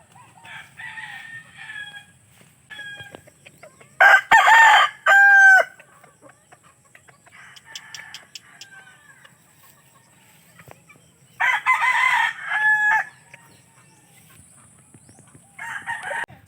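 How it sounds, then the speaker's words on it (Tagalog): Red fighting roosters crowing close by, several loud, drawn-out cock-a-doodle-doo calls in separate bursts with quieter clucks and rustling between them. "ito daw yung sample ng laro ng kanyang mga manok"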